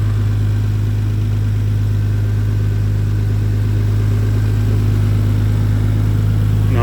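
A 1998 Nissan Skyline R34 25GTT idles steadily while warming up, its smooth, even engine hum holding constant and close with no stumbles or other sounds.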